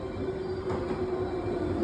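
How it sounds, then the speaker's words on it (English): Rail rumble and a steady tonal hum from a rapid-service commuter train pulling into a station in Uji, Japan, continuous and moderately loud, with no one speaking. "Here comes my train."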